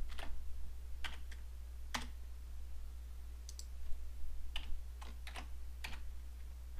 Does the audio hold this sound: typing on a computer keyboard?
yes